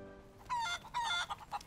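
Chickens cluck in a few short, nasal bursts close by, fairly quiet, with no talking.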